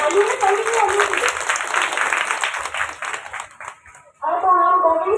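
An audience claps in a dense, steady burst at a one-day conference marking International Domestic Workers' Day, fading out before a voice begins speaking.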